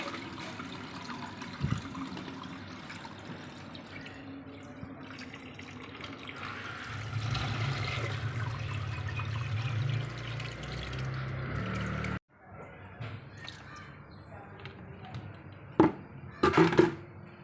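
Water from a moina culture tank pours and splashes through a sieve to strain out red worms, a steady close gushing that swells midway, stops abruptly, then resumes in short bursts.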